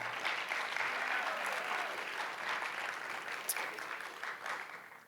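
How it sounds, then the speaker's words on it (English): A school audience at a writers' week event claps in a broad, even round of applause, sustained and fairly distant, tapering slightly near the end. "So give a big clap for them."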